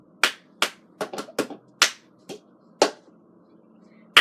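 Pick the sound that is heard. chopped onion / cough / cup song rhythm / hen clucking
cup song rhythm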